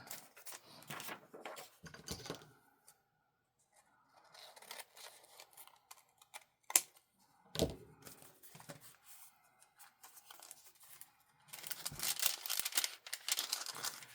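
Scissors trimming paper for a journal pocket, with a few close, crisp snips and rustles broken by pauses, then a denser burst of paper crinkling near the end.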